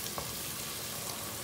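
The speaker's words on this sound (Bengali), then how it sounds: "চিকেন ভাজা ওর তেলের মাঝে আদা রসুনের পেস্ট দিলাইছি" Ginger garlic paste dropped into oil left from frying chicken, a dense close sizzle that holds steady and fairly quiet for a brief moment, without any talk.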